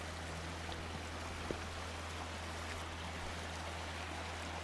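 Rushing water from a small waterfall spilling over rocks on the Allen River, a steady broadband wash heard close up and alone, with no voices.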